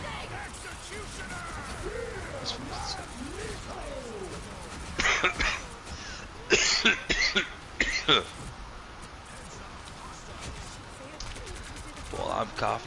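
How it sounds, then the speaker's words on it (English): Harsh coughing from a person suffering smoke inhalation comes in several loud bursts in the middle, close to the microphone, with quieter raspy breathing and background sound around them. "Well, I'm coughing a smoke inhalation."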